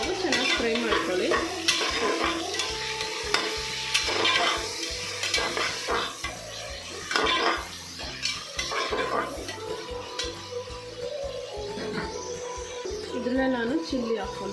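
Sliced onions frying in a pan until golden for chicken biryani, with crackling sizzle and repeated stirring scrapes and clinks of a utensil against the pot, close and busy throughout.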